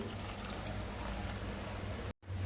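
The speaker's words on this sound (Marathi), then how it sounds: "आता माझ्या अंदाजाने मी इथे पाणी घालून घेते." Warm water pours steadily into a mixer jar holding vegetables for a Konkani val bean dish, a continuous close splash that cuts off abruptly near the end.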